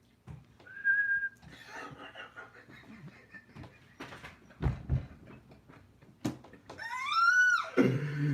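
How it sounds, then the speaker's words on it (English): A person whistles a few short rising and falling notes, close and fairly loud, separated by bursts of clattering and handling noise in a room, with a longer sliding whistle near the end. "I could whistle magically."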